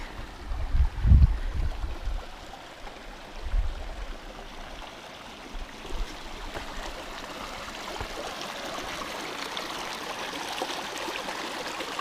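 Cherry Creek in the Emigrant Wilderness runs as a steady, broadband rush of flowing stream water, with a few low thumps near the start, probably footsteps or handling, then a constant wash with no talk.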